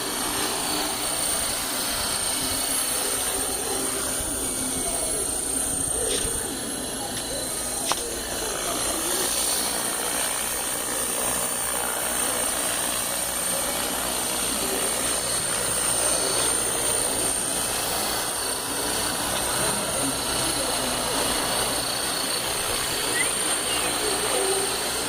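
An HK 450 GT radio-controlled model helicopter hovers in steady flight, its high-pitched rotor and motor whine holding constant and fairly loud across the whole stretch, with a broad wash of rotor noise underneath.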